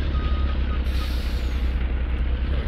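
A truck in Farming Simulator 19 reverses with a steady rumbling engine, faint reversing beeps and an air-brake hiss, heard close with no talking.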